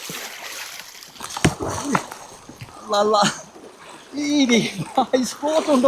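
A strong current of water splashes and rushes as people wade across a canal on a trail to a waterfall, with sloshing bursts rising and falling under excited talking.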